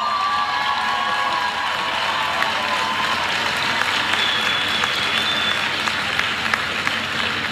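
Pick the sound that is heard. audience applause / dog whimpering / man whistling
audience applause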